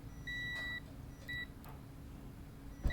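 A GOCHIFIX LG302 multimeter gives a continuity beep as its probes touch: one half-second tone, a gap, then a shorter second beep, clear and close in a quiet room, ending with a faint click.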